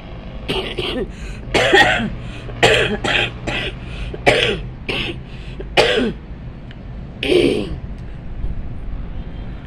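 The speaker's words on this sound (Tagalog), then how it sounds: "Pasensya na po sa ubo ko." A person coughing repeatedly at close range, a rapid series of harsh bursts with a few throat clears, spread through the span with short pauses between them.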